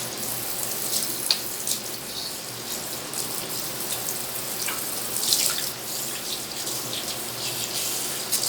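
A bathroom tap runs steadily into a sink for rinsing after tooth brushing, a continuous close hiss of flowing water with faint splashes and clinks.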